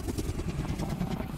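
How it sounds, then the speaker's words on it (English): A steady, loud helicopter rotor thrum fills the whole moment, close and unbroken, with no voices over it. "It's a helicopter in my fucking ear."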